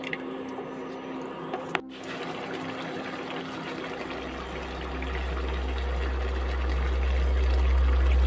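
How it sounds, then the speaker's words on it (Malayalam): Separately cooked mutton is poured with its cooking water into a mutton stew pot, a steady watery pour that swells and grows louder toward the end after a brief clatter. "സെപ്പറേറ്റ് ആയിട്ട് വേവിച്ച് വെച്ചതാണ് അതും കൂടി ഈ വെള്ളത്തോടു കൂടി ഇങ്ങോട്ട് ഒഴിക്കുവാണ്"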